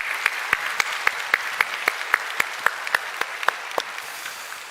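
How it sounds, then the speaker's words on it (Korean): A church congregation at Sunday worship applauding together in slow, even rhythmic claps, roughly four per second, sustained for several seconds before fading at the end. "우리 모든 일을 행하신 하나님께 우리 감사와 영광의 박수 올려드리겠습니다"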